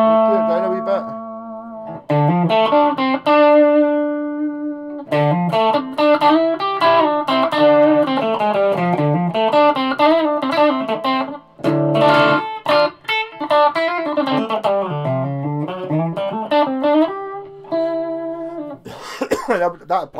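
An electric guitar plays melodic phrases through an overdriven Marshall Plexi combo amp, sustained notes bending and ringing with a gritty edge, close and fairly loud.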